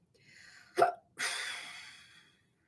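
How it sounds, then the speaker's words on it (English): A single sharp hiccup bursts out close and fairly loud, followed after a short pause by a longer breathy exhale that fades away, with no talk over it. "Why do I have the hiccups?"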